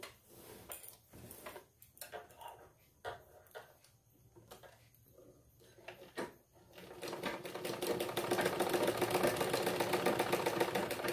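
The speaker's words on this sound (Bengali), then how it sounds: "প্রথমে আমি একটা সাইড সেলাই করে নিচ্ছি" A sewing machine stitches the side seam of a petticoat, starting with faint scattered clicks and handling, then running in a fast, steady, fairly loud whir for the last few seconds.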